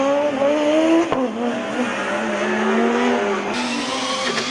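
A Formula Student combustion race car from the Uni Pisa team slows on the endurance course, its engine note falling across several downshifts and rising again, fairly close and loud, without talk.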